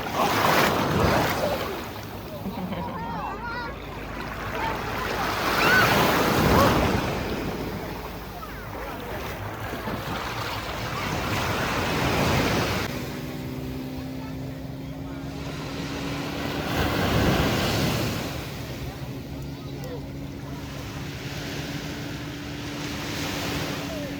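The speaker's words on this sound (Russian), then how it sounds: "Ох, какие волны." Ocean waves break on a shore on Hainan, China, in slow recurring surges of rushing surf, with steady wind buffeting the microphone and a faint engine-like hum in the background.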